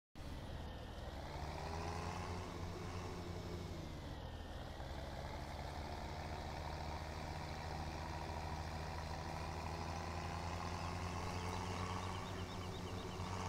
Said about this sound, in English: fertilizer tractor is right here